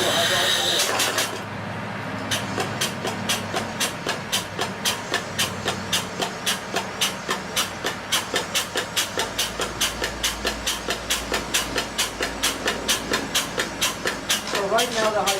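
A drum pump draws hydraulic oil from a bucket into the A side of a spray foam rig, making a steady, rhythmic mechanical clatter of fast repeating strokes that stays loud and even throughout, with no talking.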